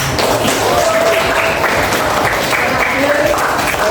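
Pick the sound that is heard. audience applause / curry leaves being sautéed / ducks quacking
audience applause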